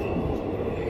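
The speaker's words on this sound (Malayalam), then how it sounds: "എന്തായാലും നമ്മുടെ ട്രെയിൻ എത്തി." The Ernad Express pulls into a station with a loud, continuous low rumble of rolling wagons, close by and steady for under a second.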